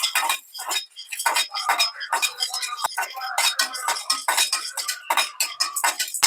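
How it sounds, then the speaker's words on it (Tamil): Fennel, cumin, cardamom, cloves, cinnamon and pepper dry-roast in a kadai while a metal spoon scrapes and clinks against it in quick, continuous strokes, close and fairly loud, with no talking. "அதுல சோம்பு, சீரகம், ஏலக்காய், லவங்கம், பட்டை, மிளகு இது எல்லாத்தையும் சேர்த்துட்டு இப்ப கொஞ்சம் நல்லா வறுக்க ஆரம்பிச்சிடலாம்"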